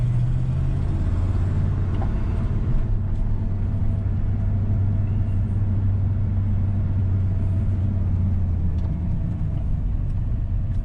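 A 1988 Ford F150 pickup truck drives in first gear, heard from inside the cab as a steady, loud, low engine and road rumble that holds a deep drone throughout.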